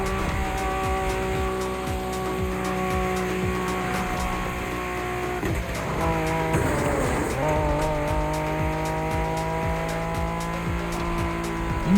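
A special NSX race car in The Crew Motorfest roars steadily at high revs, with brief tire squeals and gear shifts midway, close and loud throughout.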